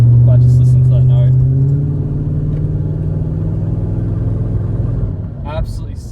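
A V8 Holden VS Commodore rumbles loud and close with a deep, steady engine note that eases slightly, while someone speaks briefly over it.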